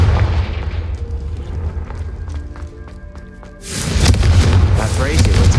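A Confringo fire spell from Hogwarts Legacy bursts out loud and sudden after a quieter stretch of tonal ambience, leaving a roaring, crackling blast that holds on to the end.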